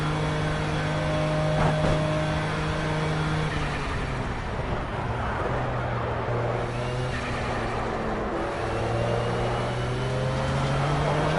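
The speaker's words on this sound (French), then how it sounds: "J'ai réaccéléré dans l'herbe." Race car engine in the video game Project CARS, driven on grass with steady loud revving and shifting engine tones that rise and fall through the whole stretch, with no talk.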